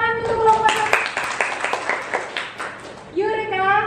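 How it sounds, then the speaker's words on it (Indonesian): Classroom applause for a student group during a physics lesson on buoyancy: a burst of quick, fairly close clapping between stretches of talk, with voices speaking before and after it. "Tepuk tangan untuk kelompok."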